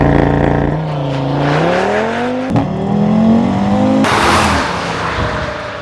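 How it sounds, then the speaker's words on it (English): Audi RS3 with its 5-cylinder DAZA engine and 1-2-4-5-3 firing order, revving loud and close, its warbling engine note climbing and falling before surging into a harsher, louder burst near the end. "The unique 1, 2, 4, 5, 3 firing order of this DAZA engine produces this really intoxicating sound"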